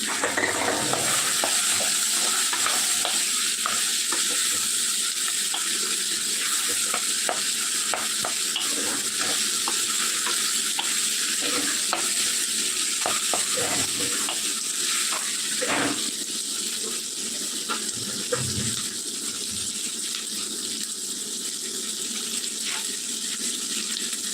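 Fish curry frying and being stirred in a pan after mustard seeds go in, a steady close sizzle and hiss with scraping stirs throughout, no talk.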